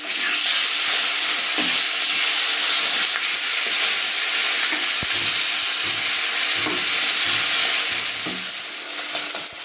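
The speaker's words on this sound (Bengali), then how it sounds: "এবার আমি মাছটাকে উল্টিয়ে অন্য পিঠ ভালো করে ভেজে নেব" Fish fries in a pan and is turned over to cook the other side: a loud, steady close sizzle and hiss with a few soft scrapes and knocks from the flipping, no voices.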